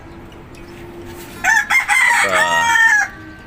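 A rooster crows loudly and close by in one long call, following a steady low background murmur of farmyard noise.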